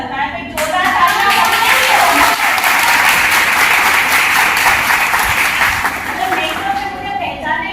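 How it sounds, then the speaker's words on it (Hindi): A large audience bursts into loud, sustained applause that rises quickly, holds as a thick roar of clapping for several seconds, then thins toward the end. "तो जोरदार तालियां"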